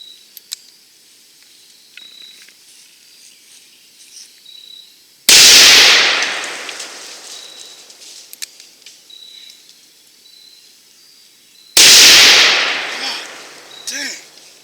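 Two deafening blasts from a Smith & Wesson Model ES 500 Magnum snub-nose revolver firing 300-grain Hornady LEVERevolution rounds, each a sharp crack with a ringing tail, spaced several seconds apart in otherwise quiet outdoor air.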